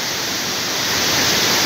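The Pastaza river rushes near the Machay waterfall in Baños, Ecuador, a loud, dense and unbroken roar of turbulent water that fills the whole clip with no voices.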